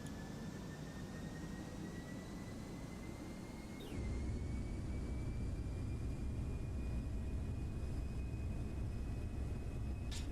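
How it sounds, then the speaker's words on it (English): A FlightFactor Boeing 757 airliner cruising in the X-Plane 12 flight simulator, a steady broadband engine roar with a faint whine that climbs slightly, stepping up in loudness partway through and then holding constant. "plane's cruising"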